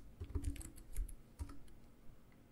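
Code is being typed on a computer keyboard in quick, soft, close keystrokes that taper off toward the end.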